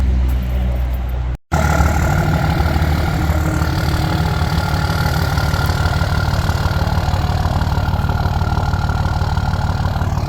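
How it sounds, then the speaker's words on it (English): A Cummins diesel engine running through a single exhaust stack, loud and close, with a steady low rumbling idle and a rhythmic knock after a brief cutout at the start. "Sounds fairly tame compared to the 7-inch stack, so I might be in luck without adding a muffler."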